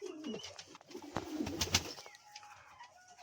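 Fancy pigeons cooing softly at close range, a few low coos and brief chirps in a quiet setting.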